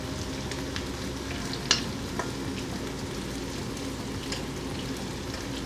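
A coffee-rubbed steak fries in butter in a pan with a steady, close sizzle, a faint crackle and a couple of soft clicks, and no one speaks.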